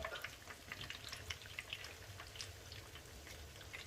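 Battered homemade chicken nuggets frying in oil, a steady soft crackle with scattered pops and droplet-like ticks running throughout, moderately quiet and with no voices.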